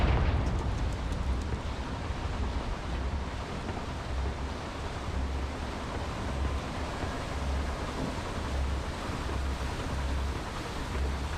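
A Confringo blasting spell exploding in Hogwarts Legacy, a sustained roaring rumble with a sharp onset that settles into a steady, wash-like boom and lingering crackle.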